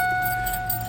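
Car keys jangling briefly at the ignition during a power window check, a short bright metallic rattle over a steady hum.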